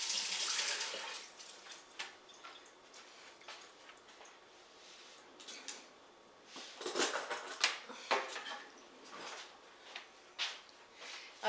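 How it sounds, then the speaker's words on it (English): Tap water runs over rinsing hands at a kitchen sink while a key lime pie filling is being made, a steady soft splashing with brief louder surges, close and fairly quiet, no talking. "give me a second to rinse my hands."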